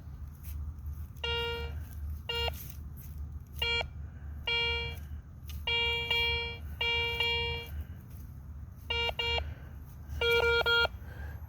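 A metal detector sounds a series of short electronic tones, clear and close, over outdoor background noise while it passes over a target at an 1846 property.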